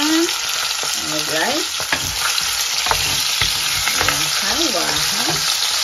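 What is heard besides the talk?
chicken adobo frying in old oil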